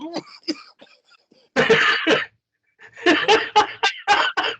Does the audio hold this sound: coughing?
yes